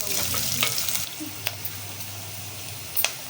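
Onions fry in a pan with curry leaves for tamarind-leaf dal, giving a close, steady sizzle. A few sharp utensil taps and scrapes punctuate it, and no one speaks.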